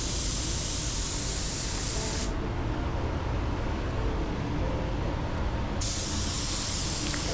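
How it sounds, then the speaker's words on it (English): A 3M spray gun running at 29 psi lays down a wet coat of Glasurit 100 line metallic black paint, giving a loud, steady broadband hiss that thins briefly in the middle before returning at full strength. "I'm just spraying my wet bag down, using the 3M gun"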